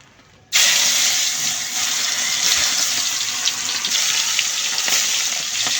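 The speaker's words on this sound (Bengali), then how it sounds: "এখন আমি মাছটি ছেড়ে দিব।" Fish dropped into hot oil, setting off a sudden loud sizzle after a brief quiet moment, then a continuous bubbling hiss that stays close and steady.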